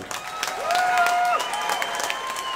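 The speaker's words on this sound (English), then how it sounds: "how about a round of applause for that magnificent fight?" Crowd applause and cheering at a live fight event after the fifth bout, a steady wash of clapping that swells and holds for a couple of seconds with some voices mixed in.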